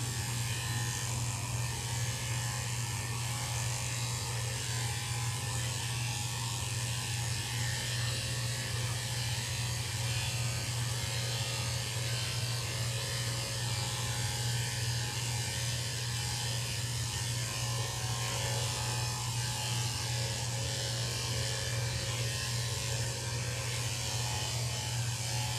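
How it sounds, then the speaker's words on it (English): Electric clippers buzz steadily while shaving along a doodle's muzzle during a grooming session, a loud, continuous close-up hum with no break throughout. "I'm going to lift them up and pin them up while I shave along her muzzle"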